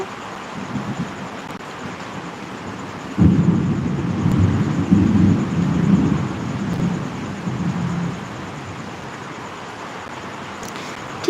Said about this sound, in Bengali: শুনতে পাচ্ছ কত জোরে মেঘ ডাকছে